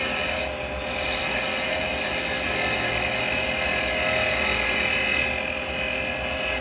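Continuous rasping hiss of a carbide woodturning tool cutting into spinning wood on a lathe, steady and close with a constant motor hum underneath and slight changes in intensity, no talking.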